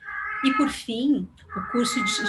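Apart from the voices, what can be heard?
cat meowing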